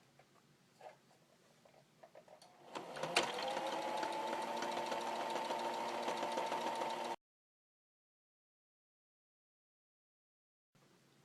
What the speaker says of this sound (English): So first of all, I'm just going to go around and straight stitch.